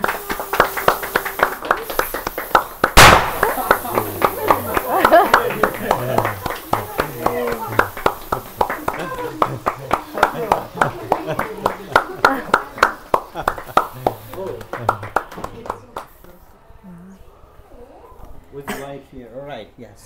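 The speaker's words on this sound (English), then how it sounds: "give them all the applause." A small group claps and cheers at a celebration, an uneven burst of hand claps that loosens into scattered claps and fades out, with voices mixed in throughout.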